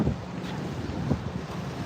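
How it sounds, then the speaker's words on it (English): A steady breeze blows by the sea on a windy seaside walk in Dumaguete, Philippines. It comes as a loud, continuous rumble of wind buffeting the microphone, with choppy waves underneath. "Very windy. Yeah, it's a little breezy today."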